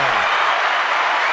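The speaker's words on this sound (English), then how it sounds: "I let the applause go extra long that time." Sustained audience applause on a political commentary show, a dense even wash of clapping from a studio crowd that holds steady throughout, with a faint low voice briefly at the very start.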